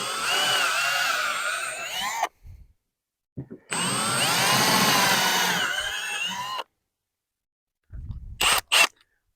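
A power drill is cutting a hole through the gel coat of a Mako Pro Skiff 17 boat. There are two sustained whining runs separated by silence, then short sharp bursts at the end.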